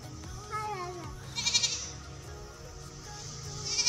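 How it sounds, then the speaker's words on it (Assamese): A goat bleats once in a wavering, quavering call near the start, close and distinct, followed by quieter farmyard background with a few brief higher-pitched sounds. "আমি ছাগলীটো খেদি আহো না"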